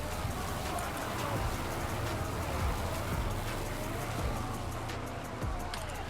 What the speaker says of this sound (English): Now, is this going to be a hailstorm?